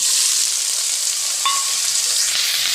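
Onions frying in hot oil with cumin in a steel pan give a loud, close, continuous sizzle with a faint scrape of stirring partway through.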